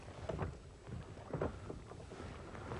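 Gusty wind buffets the microphone in uneven rushes on a cold February day in open Norfolk Broads reedbed country, a low rumbling roar with a few stronger blasts, no voices.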